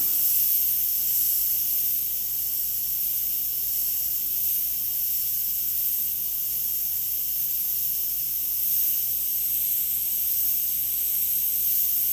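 Airbrush or spray gun hissing steadily as moss green paint goes onto an owlbear portrait, a constant close, bright high hiss with no breaks and no talk.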